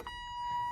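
A steady electronic beeping tone from a BMW E30's turn signal holds throughout, close and clear, with a faint low rumble beneath it.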